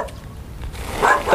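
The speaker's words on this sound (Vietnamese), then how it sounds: "trời sủa" A dog barks a few times at a distance outdoors near a frog-trap spot, short muffled yaps under a noisy background.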